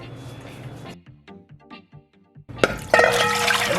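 Water poured into a pot of soaked peas, a burst of gushing and splashing after a stretch of quieter clinks and handling sounds, close and loud.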